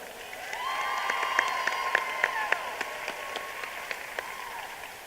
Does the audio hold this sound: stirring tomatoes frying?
no